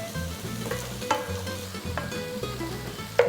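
Onions and carrot sauté in a pan with a close, steady sizzle, punctuated by a few spoon clanks and stirring scrapes, and no voices.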